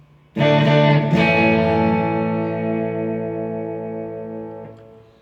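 An electric guitar chord rings out from the bridge pickup with all knobs up, restruck once, then sustains and slowly fades with a light wash of delay and reverb tail.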